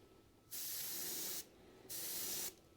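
Light coats of spray paint dusted onto a fishing lure, two close hissing bursts about a second each, separated by a short pause.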